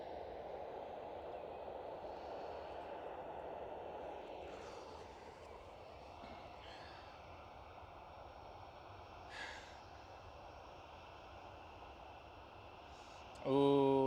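An Air India airliner is pushed back and taxis out at Amsterdam Schiphol, its engines giving a steady distant jet whine and rumble that slowly fades, with a brief louder burst near the end.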